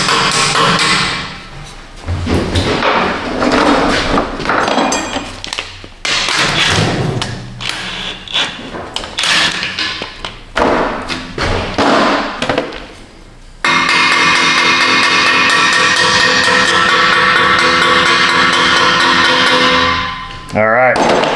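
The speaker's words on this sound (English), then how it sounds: "I'm going to take my hammer, I'm going to go around and peen that edge just a little bit" Sharp metal hammer blows peen the edge of an exhaust pipe on a Toyota Tundra during muffler and converter flange work, coming in irregular bursts of loud close strikes, then a long steady harsh grinding-like roar near the end.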